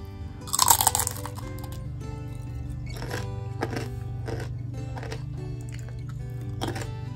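Close crunching bites into a crispy Hawaiian snack, a loud burst at first then repeated softer chewing crunches over a steady low hum.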